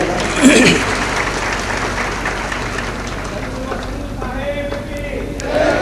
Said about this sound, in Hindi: धन्यवाद, ताली बजाओ।